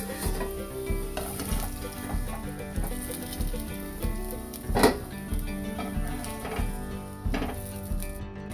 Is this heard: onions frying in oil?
yes